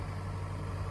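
The diesel engine of a Yanmar B6Z mini excavator idles with a steady, low, even hum, heard close and alone.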